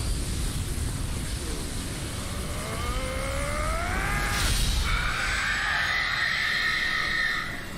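Rising, wavering shrieks climb in pitch over a constant noisy rumble in Final Fantasy XVI, then a sharp burst and a sustained high tone that holds before fading.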